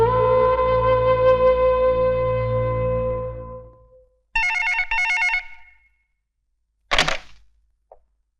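An old-style telephone bell rings in two quick rattling bursts after a long sustained musical tone fades out, followed by a sharp knock and a brief click in an otherwise quiet room.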